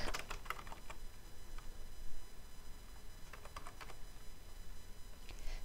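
Someone types on a computer keyboard, quiet clusters of light key clicks in short bursts with brief pauses between them.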